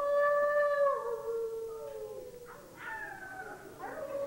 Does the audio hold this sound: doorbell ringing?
no